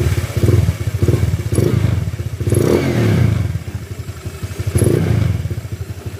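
A Honda Click 150 scooter with a stock exhaust and a 62mm bore engine idles and blips close up, a loud, pulsing throb that swells with each rev and then settles back, with no voices.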